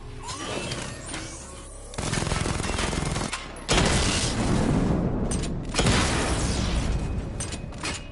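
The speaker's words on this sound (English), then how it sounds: "Destroy targets to charge up weapon energy and activate missile barrage." Missile barrage and rapid weapon fire in Batman: Arkham Knight, a loud continuous fusillade of gunfire, booms and mechanical whirring with several heavy surges of blasts.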